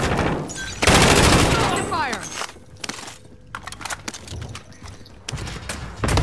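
Gallo shotgun blasts in a first-person shooter, a loud heavy boom followed by several more shots spaced through the clip, over game effects and player voices.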